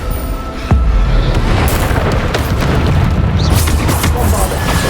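Bombarda spell explosion in the Hogwarts Legacy video game: a sudden loud boom followed by sustained rumbling blast noise and further crashing impacts.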